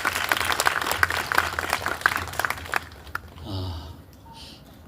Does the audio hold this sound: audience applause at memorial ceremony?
yes